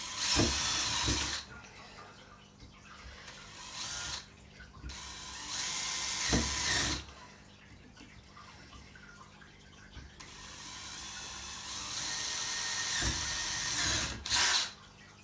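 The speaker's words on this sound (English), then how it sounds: "It is a little bit tricky on a round pipe to get drilling" A power drill whines in several bursts against a round metal pipe, loud and close, with quieter gaps of shuffling between the runs.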